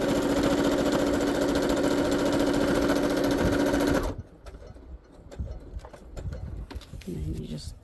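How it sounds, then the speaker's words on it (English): Electric sewing machine running a straight stitch on fabric, a loud steady mechanical whir that runs continuously for about four seconds, then stops, leaving quiet handling noises and faint room sound. "I'm just doing straight stitch now."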